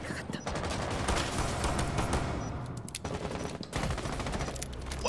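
Rapid bursts of automatic gunfire in a video game, loud and dense, nearly continuous across the stretch with two brief gaps, under excited voices.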